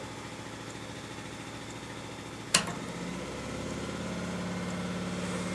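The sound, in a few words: generator running in background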